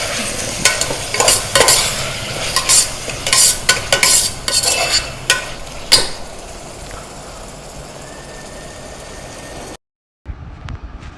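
Tomatoes being sautéed in a pan for chicken kozhambu, a close sizzle under busy, rapid spatula scraping and tapping for about six seconds, then a quieter simmering hiss before a brief cut to silence.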